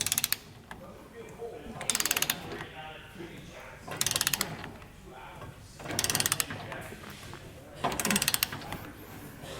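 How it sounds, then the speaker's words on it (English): Torque wrench tightening trailer hitch bolts on a 2022 Nissan Frontier: four bursts of rapid ratcheting clicks about two seconds apart, close and fairly loud over faint background noise. "just torque these down to the manufacturer's recommendations in the instruction manual"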